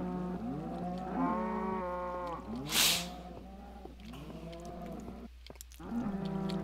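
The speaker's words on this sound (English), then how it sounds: "There's a bunch of cows on minecarts, and they get cycled through up here." Several cows moo repeatedly in Minecraft, riding minecarts in a farm cycling system, their long drawn-out calls overlapping and following one another at close range over a steady low hum, with a brief hiss in the middle.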